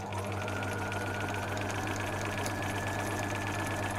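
A domestic sewing machine stitches a fabric gift label, giving a steady, even mechanical whir with a rapid needle rhythm that stays close and constant throughout.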